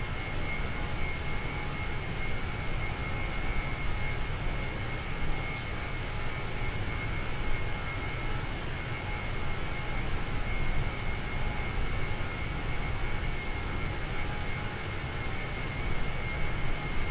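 A small airplane's engine drones steadily in flight while climbing on the way to New Jersey, a constant loud broadband hum with a faint steady tone, with no talk.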